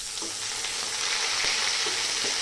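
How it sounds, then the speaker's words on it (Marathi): Tomatoes added to onions that have browned in a pan for a stuffed capsicum dish, giving a steady, close frying sizzle with soft stirring scrapes, no voices. "कांद्याला चांगला लालसर रंग आलेला आहे आता मी त्याच्यामध्ये टाकते टमाटर"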